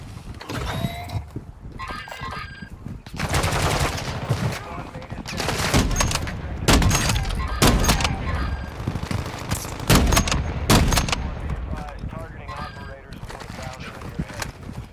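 Gunfire in a Call of Duty DMZ match, with repeated bursts and volleys of shots hitting at intervals through the clip, fairly loud and mixed with game noise and background talk.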